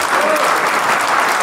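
Enthusiastic audience applause for two award winners at a hall of fame roast dinner: dense, loud clapping from a crowd, with some voices mixed in.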